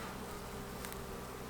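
Honey bees buzz over a brood frame during a hive inspection, a steady dense hum of many bees, close and continuous, with a faint brief scrape partway through and no talking.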